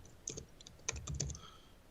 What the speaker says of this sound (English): So I might start by just typing Biggio and Bagwell.